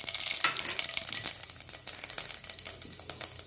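Fennel seeds and whole garam masala sizzle and crackle in hot oil, a dense, steady frying hiss with small pops, close and alone.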